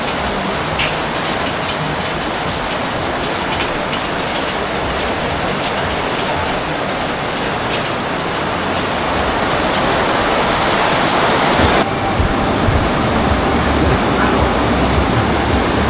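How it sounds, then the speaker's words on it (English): Heavy rain bucketing down at night on Alona Beach, a dense, even hiss of downpour that holds steady throughout and grows a little louder near the end. "Just raining. Just in a matter of minutes, it's gone from beautiful to bucketing down."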